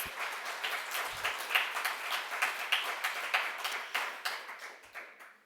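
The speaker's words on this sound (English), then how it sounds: "So a big applause for all our visionary guest speakers." Audience applause for guest speakers at a welcome session, a steady burst of many hands clapping at moderate volume, tapering off toward the end with no talk over it.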